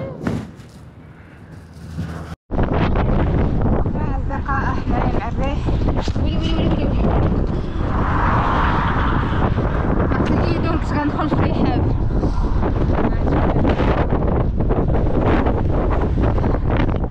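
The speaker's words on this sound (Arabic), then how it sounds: "ما كنعانيو من هاد الريح صراحه بزاف." Strong wind buffets the microphone on a road trip, a loud continuous roar with gusting rushes, while voices talk over it throughout.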